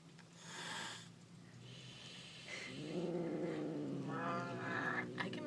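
An agitated cat growls and yowls in low, drawn-out bursts, with rising caterwaul tones toward the end, fairly faint and close.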